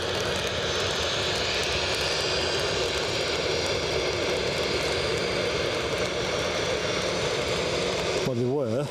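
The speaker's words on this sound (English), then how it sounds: "Logan Air. They're taxiing like they're expecting to get out before the Dreamliner" A Loganair plane taxis at wet Edinburgh Airport, its engine drone a steady, loud roar that fills the whole stretch without pause, with no voices over it.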